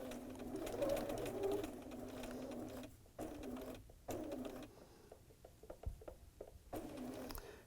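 A sewing machine stitches a mitered quilt binding with a steady mechanical whir, then slows into a few short bursts and pauses as it takes back stitches, with faint bird cooing in the background.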